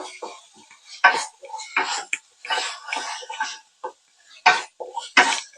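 Tomato masala paste for crab masala being sautéed in a pan over a medium flame, with a spatula scraping and clattering against the metal in irregular close bursts separated by short pauses.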